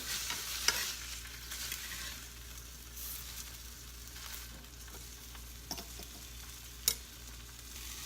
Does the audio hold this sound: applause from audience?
no